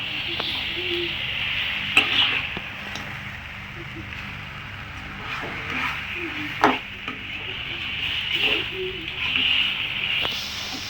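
Country chicken pepper fry being stirred in a hot pan, a soft steady sizzle broken by scraping spoon strokes and occasional sharp clacks against the pan.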